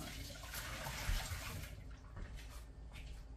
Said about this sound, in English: And then just put the water down the drain.